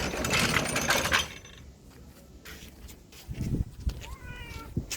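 A stray-minded house cat meows outdoors near a home, a loud rising cry at the start followed by quieter scuffles and a few shorter, faint meows toward the end.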